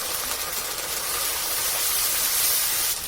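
Ground paste of cumin, ginger, dry red chili and turmeric sizzling in hot oil in a pan, a steady loud broadband hiss that holds for the whole stretch with no talk.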